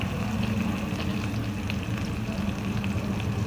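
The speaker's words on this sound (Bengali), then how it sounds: "এবারে আমি এতে কিছুটা পেঁয়াজ দিলাম" Sliced onions frying in a pan for restaurant-style kaju paneer masala, a steady close sizzle with light crackle running the whole time, no voices.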